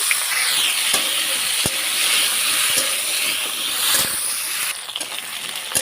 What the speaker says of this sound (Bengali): এবারে কড়াইয়ের মধ্যে আমি ডাঁটা আর আলুকে দিয়ে একটু হালকা সাঁতেলে নেব।